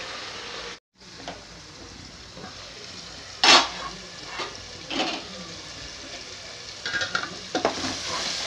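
Tomatoes and ridge gourd cook together in a pan for a curry, giving a soft, steady sizzle. Occasional stirring scrapes and light clinks of a utensil break through the sizzle.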